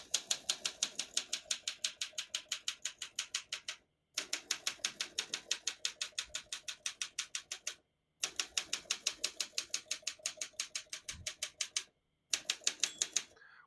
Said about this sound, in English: Once you hear the bell, you're near the end of the margin